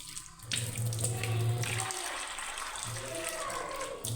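Tap water runs into a bowl of soaked dried peas as they are rubbed and washed by hand, a steady splashing and gushing close by with brief pauses, and someone speaks quietly over it.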